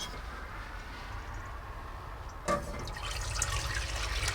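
Strained elderberry syrup is poured back into a pan, a quiet liquid trickle and splash that starts abruptly partway through and continues as a soft, steady pour.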